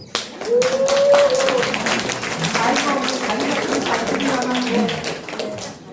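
Audience applause at an education policy forum in Daejeon: a steady patter of clapping from a seated crowd that runs throughout, with a speaking voice heard over it.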